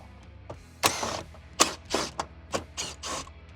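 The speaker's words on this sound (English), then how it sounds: "So I'll undo these 3 screws." Three screws are undone from the centre dash of a Nissan Y61 Patrol, heard as close, short mechanical clicks and ratcheting bursts spaced across a few seconds in a quiet interior.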